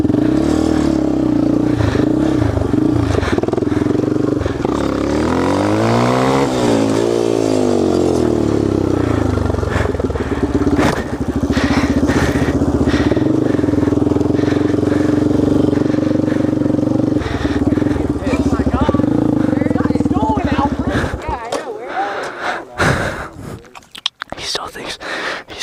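A dirt bike engine revs loudly and repeatedly while being ridden on wheelies, its pitch sweeping up and down in surges, close and rough, before the sound thins into wind buffeting and scattered clatter.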